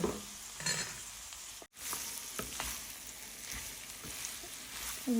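Two eggs sizzle and fry in a hot pan, a steady crackling hiss with a brief cut partway through and light stirring scrapes, no talking.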